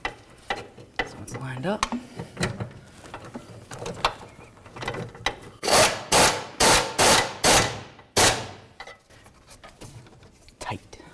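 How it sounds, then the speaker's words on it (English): Ratcheting and mechanical clicks from a bolt being tightened to secure the fuel tank on a 2008-2012 Jeep Liberty during a fuel pump replacement, a series of loud, regular ratchet bursts near the end, with brief speech and handling noises before. "So now we're gonna put in the bolt that holds these secure."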